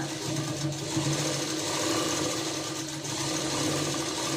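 Sewing machine running steadily while stitching dots onto fabric for boutique-style front stitching, a continuous close motor whir with even rhythmic needle chatter throughout, no talking.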